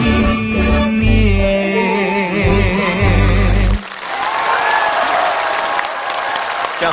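Music with singing fades out and gives way to loud, steady studio audience applause at a television game show, sustained and dense to the end.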